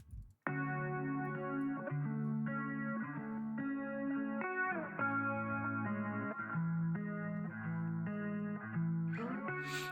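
A guitar plays the signature melodic line of a produced beat, with chorus, distortion and echo effects, a steady, dense run of notes heard alone and continuous throughout.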